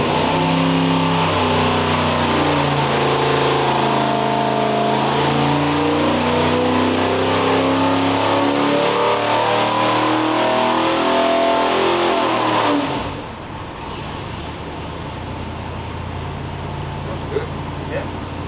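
A 396 big block V8 revs hard on a dynamometer pull from 3,500 to 5,500 rpm, its loud rising roar climbing steadily for about twelve seconds before abruptly cutting to a low idle rumble.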